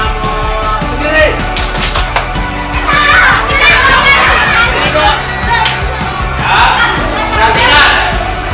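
A class of children doing the mosquito clap (tepuk nyamuk), with loud sharp hand claps among lively kids' voices and chatter in a classroom, bursts of noise rising and falling.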